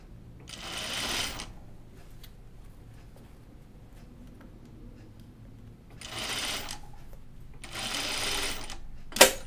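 A sewing machine stitches fabric in three short bursts of rapid mechanical whirring, separated by quiet pauses with faint handling noises, ending with a sharp click.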